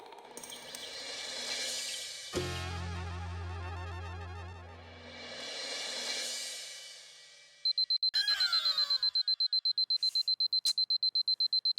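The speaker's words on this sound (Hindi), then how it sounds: "अलार्म बंद कर।" An alarm clock in a domestic sitcom scene rings as a rapid string of sharp, evenly spaced electronic beeps that starts abruptly after a stretch of swelling music tones and keeps going, loud and close.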